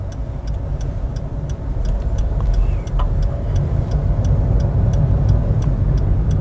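A car accelerates from inside the cabin during a driving lesson, with a low engine rumble that swells and holds steady. A regular turn-signal tick runs throughout, close and clear above the road noise.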